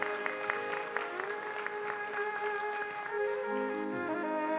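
Audience clapping after a Hindi motivational talk on staying happy, steady applause throughout under a held musical tone, with no speech.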